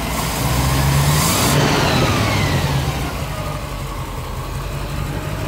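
A 1972 Range Rover engine runs loud and close by, revving up at first and then settling back to a steady rumbling idle.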